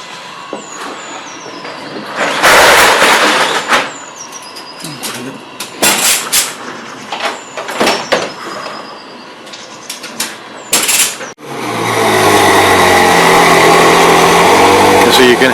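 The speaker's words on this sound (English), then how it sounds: "So you can hear the car, it's being delivered now, coming off the transporter, making quite a noise" Ferrari 458 Speciale coming off a transporter during delivery: engine blips and mechanical clatter in bursts, then a loud sustained high-revving roar at the end, with people talking nearby.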